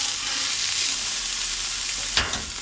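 Cheeseburger patty frying in a pan, a steady close sizzle throughout with a brief scrape or clunk toward the end, no voices.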